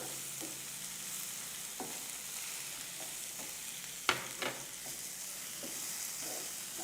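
Cauliflower pieces stir-frying with red chilli powder and green chillies in a pan: a soft continuous sizzle broken by scattered spatula scrapes and a couple of sharper clacks, close and fairly quiet, no voices.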